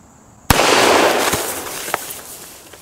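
A single sharp, loud real gunshot fired at a blue 2-liter bottle on a shooting range cracks once, then trails into a decaying echo with a few faint pops after it.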